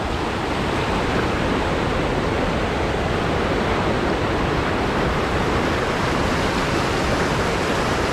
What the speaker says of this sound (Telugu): అరే నీళ్ళు చూడు ఎంత స్పీడ్ అవుతున్నాయి చూడు